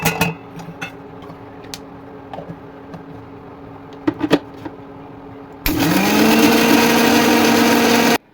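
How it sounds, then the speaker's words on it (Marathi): A kitchen mixer grinder grinding green chillies with salt starts up after a few light clatters and knocks and then runs as a loud, steady whir for several seconds before cutting off. "आणि सुरुवातीला मिरची वाटून घेणार आहे, फक्त मीठ आणि मिरची."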